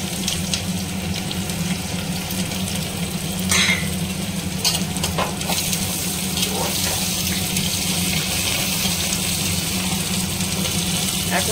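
Chopped onions cook in a pan for chicken pulao, a steady soft sizzle running throughout with a few brief scraping stirs and clinks near the middle.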